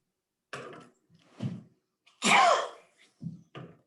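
A single sneeze bursts out indoors amid the quiet shuffles and murmurs of a town conservation commission meeting, with soft short sounds before and after it.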